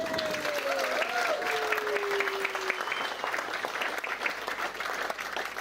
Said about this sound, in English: can we have a round of applause for the two families, please?